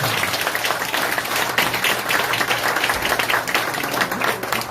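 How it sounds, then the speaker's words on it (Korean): Steady applause from an audience at a ceremony during a flower bouquet presentation, dense and fairly loud with a faint low hum beneath, continuing for several seconds without speech. "박수를 해주십니다"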